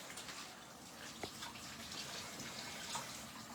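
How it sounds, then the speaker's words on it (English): Running tap water pours steadily in a home kitchen as hands are washed, a continuous close hiss and splash with small irregular spatters throughout and no talking. "I'm going to wash my hands."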